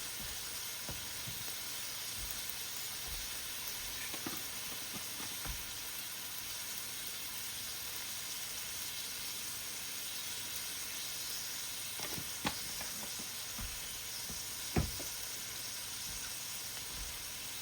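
Carrots frying with salt, black pepper and seasoning in a pan, a constant close sizzling hiss with occasional soft clicks and taps of a utensil.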